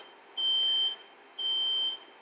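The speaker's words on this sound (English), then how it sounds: "I hear nothing but the beep." A smoke alarm chirps at 3 a.m., two sustained electronic beeps about a second apart, each lasting roughly half a second, in an otherwise quiet room.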